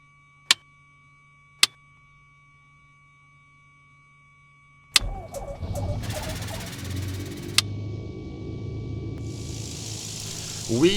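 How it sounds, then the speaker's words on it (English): A Piper Archer III light aircraft engine in X-Plane 11 is started: a few sharp switch clicks, then the starter cranks and the piston engine catches into a steady running drone. "So we're just about to kickstart the engine over"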